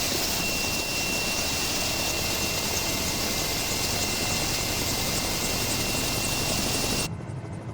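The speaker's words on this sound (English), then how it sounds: "this thing, the Mini-500. It's kind of like the baby version of the chopper from Magnum PI." A Mini-500 helicopter engine in a flight simulation game holds a loud, continuous whirring roar with a steady high tone. Near the end it cuts down abruptly to a quieter level.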